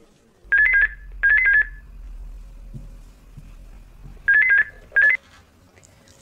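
Office telephone ringing while a call is put through, four electronic double-tone rings in two pairs, close and clear over a quiet background.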